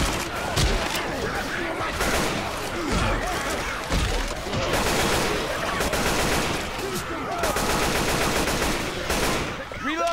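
Gunfire in the Left 4 Dead 2 Dark Blood 2 finale, loud, dense bursts of automatic and single shots crashing almost continuously for several seconds, with voices partly audible beneath the shooting.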